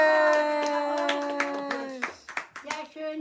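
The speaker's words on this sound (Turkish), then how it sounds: "Aferin alkış." Scattered hand clapping from a few people, irregular and close, following a sustained sung or hummed note.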